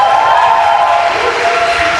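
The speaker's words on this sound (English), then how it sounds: "Enjoy that cheer now" A crowd at a UFC 217 press conference in Toronto, Bisping vs St-Pierre, roars and cheers loudly and continuously throughout, with no break in the noise.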